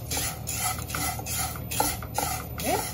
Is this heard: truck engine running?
no